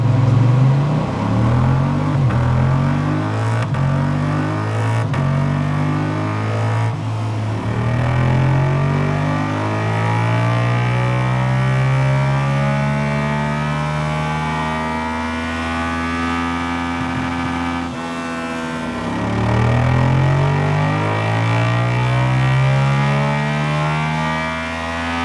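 A Yamaha R7 motorcycle with a full Akrapovic exhaust system revs on a dyno, loud and close, its engine note climbing in repeated sweeping pulls, dropping back and rising again.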